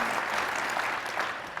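A short burst of audience applause at a manufacturing leadership summit, many hands clapping densely and steadily in a large room, fairly loud and fading slightly at the end.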